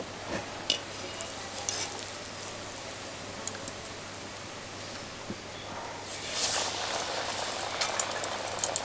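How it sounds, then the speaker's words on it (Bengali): Banana flower chops deep fry in hot oil with a dense, even hiss of bubbling that swells slightly near the end, steady and close with no one speaking. "ঠিক একইভাবে অন্য চপগুলোও ভেজে নেব।"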